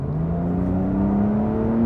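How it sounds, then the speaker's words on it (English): Porsche 911 Carrera S (992.2) flat-six engine with its exhaust in the aggressive sport setting, a steady loud drone whose pitch climbs slowly as revs build, heard alone and close throughout. "And the higher up you are in the rev range, the better this flat six sounds."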